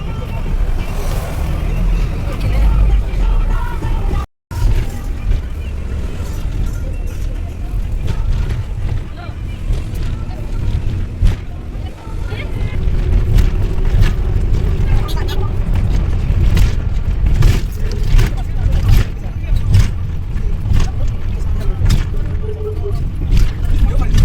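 Riding inside a moving bus heading to Kamakhya, a steady loud engine and road rumble with wind noise runs throughout, and voices can be heard under the din.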